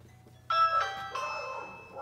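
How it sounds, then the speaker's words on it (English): A doorbell chime rings once inside a house, a bright two-tone ding-dong that starts suddenly and lingers as it fades, heard clearly and close against a quiet background. "Doorbell."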